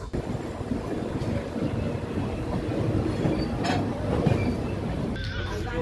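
A departing train bound for Digha rumbles steadily with a broad low roar and faint rattling of the cars, growing a little louder over several seconds. Nothing else stands out.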